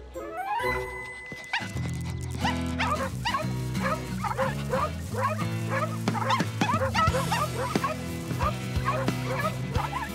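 Cartoon dogs barking and yipping at the opening of a dog park, bright repeated barks over an upbeat music score, close and lively throughout.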